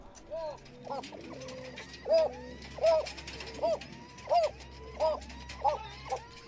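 Repeated soft cooing calls from a Yemeni pigeon, about six rhythmic bursts close to the microphone, over a low steady background hum.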